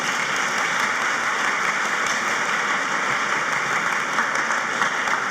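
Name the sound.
applause for faculty and staff at graduation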